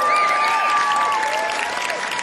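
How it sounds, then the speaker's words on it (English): A live audience at a traditional Irish music concert gives a fiddler a sustained round of applause, loud and close, with a high whistle cutting through the clapping. "give him another round of applause"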